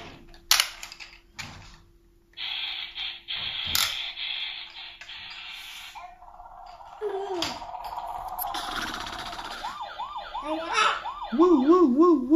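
A voice imitates an ambulance siren with a rising and falling wail that grows louder near the end, after a stretch of scattered clatter and rustling close by.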